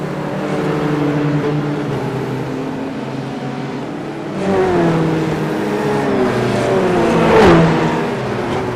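Race cars cruise at reduced pace behind the safety car at Bathurst, engines droning with a steady hum that swells as cars pass closer, no voices over them.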